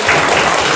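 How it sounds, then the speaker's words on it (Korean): Students in a classroom clap together for a classmates' correct quiz answer, a short dense burst of applause that is brisk and close, ending quickly. "박수 한번 쳐주죠"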